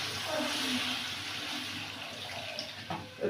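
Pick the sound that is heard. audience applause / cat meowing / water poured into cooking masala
water poured into cooking masala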